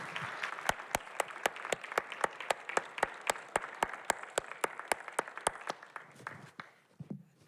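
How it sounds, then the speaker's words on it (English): An audience welcoming a speaker to a cultural preview event claps, with sharp evenly spaced hand claps standing out over a softer wash of applause that gradually tapers off. "Let's get the applause meter up to 11 as we welcome Susan Granger."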